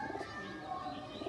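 A pigeon coos softly near a trapping net, a low, faint burbling call over a quiet outdoor background, with other faint noises around it.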